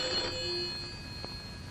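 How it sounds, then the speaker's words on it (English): Telephone ringing in an office, a steady electronic ring heard at moderate level and fairly near, with faint room ambience behind it and no speech. "Your phone's going."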